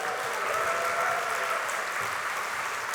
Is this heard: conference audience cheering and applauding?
yes